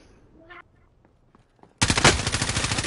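Hostile gunfire in the video game Warzone on PS5 breaks out as a sudden, loud, rapid burst of automatic shots after a quiet stretch with faint sounds, continuing steadily to the end.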